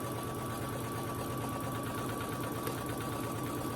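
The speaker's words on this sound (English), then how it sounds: "I'm going to keep sewing here." A sewing machine stitches through layered scrunchie fabric with a fast, steady mechanical chatter and a constant hum, fairly quiet and close, running unbroken throughout with no talking.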